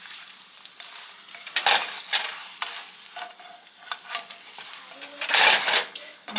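Ham fries in a pan with a soft sizzle, punctuated by several louder scraping bursts as it is moved and stirred nearby.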